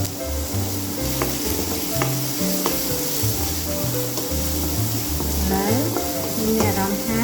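Garlic sizzling in hot oil in a pan while cooking Japanese fried noodles, a dense continuous crackle close up, with low background sounds and some tonal notes under it.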